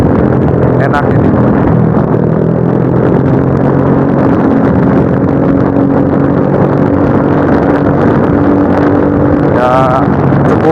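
A standard motorcycle fitted with a cheap aftermarket exhaust idles and revs with a throaty, steady drone, close to the microphone with wind buffeting, while someone talks over it.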